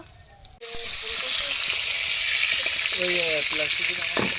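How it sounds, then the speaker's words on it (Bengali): Loud, steady sizzle of fish frying in hot oil, a broad hiss that starts abruptly and continues, with faint voices in the background. "এই তেলে সব মাছ আমি একসাথে ভেজে নেব"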